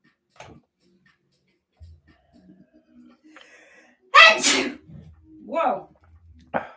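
A single sudden, forceful sneeze in a quiet indoor room, loud and close, followed by a softer breathy sound and a short burst of noise, with faint scattered small sounds before it.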